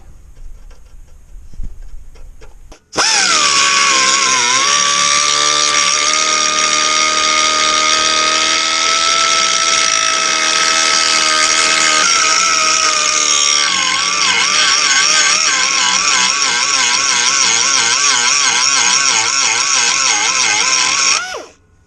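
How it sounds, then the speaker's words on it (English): A die grinder grinds torch-cut slag off steel on an 88 Chevy P30 RV during a spring install, a loud, steady high-pitched whine held for about nineteen seconds after a quiet start, its pitch wavering slightly under load. "I got some slag here from where they cut it with a torch, so I'm gonna clean that up. Die grinder"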